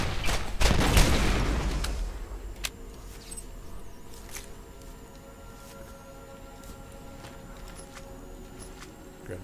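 Bursts of gunfire in Borderlands' Zombie Island of Dr. Ned, a dense loud volley of shots early on, then scattered single reports and clicks fading into a quieter low ambient rumble.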